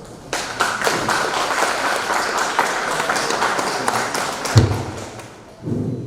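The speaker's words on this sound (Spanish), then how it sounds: "Un fuerte aplauso." A conference audience gives a speaker a short burst of applause, dense clapping close by that ends abruptly, followed by a thump and a brief murmur.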